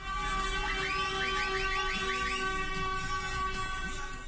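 A bus used as a wedding car blares a steady, loud horn tone continuously with a wavering higher-pitched honk pattern over it, all over constant rumbling traffic noise.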